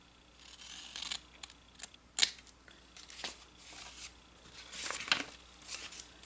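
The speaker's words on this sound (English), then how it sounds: "I'm still going to cut it a little bit" Scissors snip through a paper gift card holder in a series of short, crisp cuts, close and distinct, with small rustling paper sounds between the snips.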